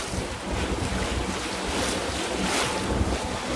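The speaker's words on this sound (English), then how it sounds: "We raised a little sail and we're revving our engine a little higher." A sailboat motor sailing with a little sail raised along the Florida Intracoastal Waterway near West Palm Beach, its engine revved a little higher. A steady, broadband drone of engine, wind buffeting and water runs continuously throughout, with no talking.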